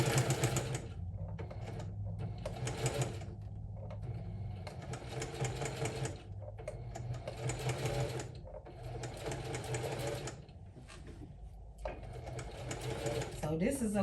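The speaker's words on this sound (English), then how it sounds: "you're going to sew this down with the foot on the edge of the fabric." A sewing machine stitches quilted handbag fabric in several start-stop bursts of steady mechanical whirring, close and loud, with a voice talking over parts of it.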